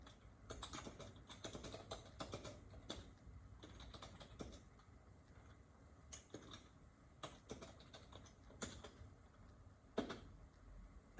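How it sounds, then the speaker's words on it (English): Someone types on a computer keyboard, giving quiet, irregular bursts of light key clicks with short pauses between them and no voices. "I'm typing it in the chat box, so wait for it in the chat box."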